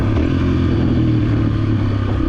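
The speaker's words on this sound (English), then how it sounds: "The best way to slow down on a dirt bike is just to have the engine brake for you" A dirt bike engine braking after a downshift, a steady loud low motor drone with continuous clatter and no break, close to the rider.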